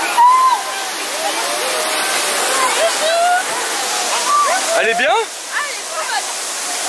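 A waterfall roars steadily and close, a dense rushing hiss of falling water that never lets up, while people, including a child, call out and talk over it.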